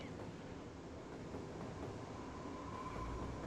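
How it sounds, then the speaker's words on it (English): A train arrives at a station in the city-building game Cities Skylines, a steady low rumble of rolling rail cars with faint clatter and a thin high whine, swelling slightly toward the end. "Got a lot of people waiting for a train to come in."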